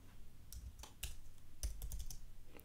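Keystrokes on a computer keyboard typing a short word into a software dialog box, a few quick taps in small clusters, close and moderately quiet with no talking.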